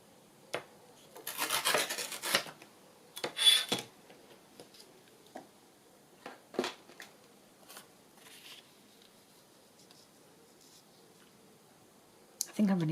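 A botanical paper tag being trimmed in a craft project, heard as close, rasping cutting strokes in a few short bursts, followed by quieter scattered handling noises and a final rustle.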